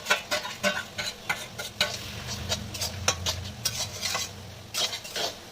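Fried prawns are tipped into a pan of dhemni greens seasoned with a little sugar and stirred, giving repeated scraping and clinking spatula strokes over a soft, low sizzle at close range.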